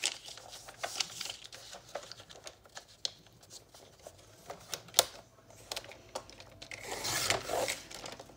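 Scissors snipping scraps of paper at a craft desk, quiet separate clicks and crisp snips in an irregular rhythm, close by and faint, with a slightly louder rustling flurry near the end.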